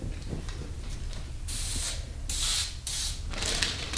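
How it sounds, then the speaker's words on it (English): Several short bursts of cooking spray hiss close by onto baking paper, separated by brief pauses, with light rustling of paper between them. "And I spray it a little bit just to hold it down while I'm putting the cookies on there"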